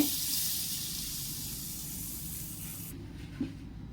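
A spoonful of hot oil goes into dhokla batter with a soft hissing sizzle that fades over a few seconds, ending in a faint clink.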